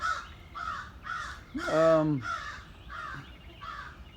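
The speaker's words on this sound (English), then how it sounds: "Being attacked by murder of crows" Several crows caw in a steady series of harsh calls, fairly close, one longer drawn-out caw in the middle.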